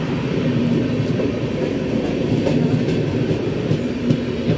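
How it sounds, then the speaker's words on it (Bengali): Howrah Gitanjali Express passenger train rolling past, a loud continuous rumble with rhythmic wheel clatter and faint rail squeal, close by and unbroken throughout. "এটা হচ্ছে হাওড়া গীতাঞ্জলি এক্সপ্রেস।"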